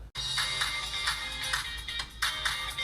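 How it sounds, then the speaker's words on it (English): A phone ringtone from an incoming call chimes in bright, repeating bursts that pulse steadily and fairly loudly for about three seconds after a brief dropout at the start. "Got a phone call."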